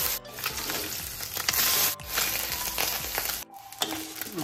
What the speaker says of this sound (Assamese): আমি অকণ খৰখৰীয়াকৈ ভাজিম।